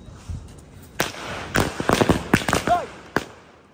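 Diwali firecrackers bursting outdoors in a rapid, irregular string of sharp cracks and bangs, some near and loud, others fainter, with a brief whistling streak midway.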